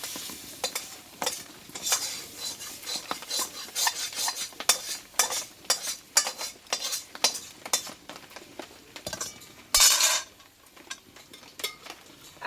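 A spatula stirs marinated mutton with spices in a pot, producing rhythmic scraping and rasping strokes about twice a second, close and fairly loud, with a faint sizzle underneath.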